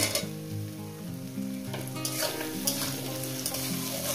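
Tomato and green chillies fry in a hot pan with salt, a loud continuous sizzle with an underlying hum and occasional scraping stirs.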